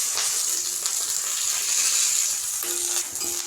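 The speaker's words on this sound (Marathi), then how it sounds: "यावरती ह्या मिरच्या घालून घ्यायच्या त्यासोबत इथं लसूणसुद्धा टाकायचा आणि यावर थोडं तेल घालून घ्यायचं" Green chilies and garlic frying in oil on a hot griddle, giving a steady, soft sizzle and hiss with faint crackles throughout.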